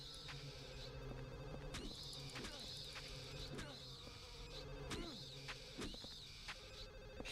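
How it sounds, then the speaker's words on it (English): A telephone rings repeatedly in the horror video game Silent Hill 4, its buzzing electronic trill returning in regular bursts over a murky, droning game soundscape, fairly faint and without talk. "Sorry about the phone ringing noise"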